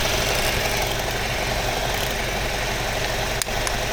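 A car engine idling steadily after a filter cartridge change, a constant low rumble with slight vibration and one brief click near the end, no talking.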